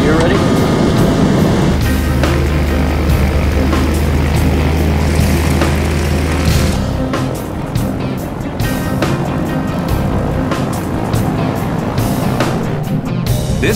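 Douglas DC-4 propeller airliner, a former Berlin airlift plane with Buffalo, flying in Canada's Northwest Territories; a loud, steady multi-engine propeller drone with a low pulsing hum, mixed with background music throughout.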